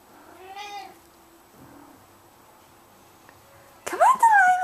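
A kitten gives a short, clear meow near the start, then a louder cry at the end, heard amid a quiet indoor scene with puppies and faint voices.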